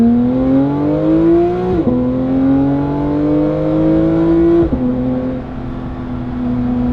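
A Porsche 992.2 GT3 engine revs up hard through the gears, its rising howl broken by two sharp shift drops, loud and close.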